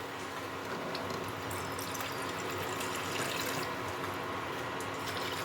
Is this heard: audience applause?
no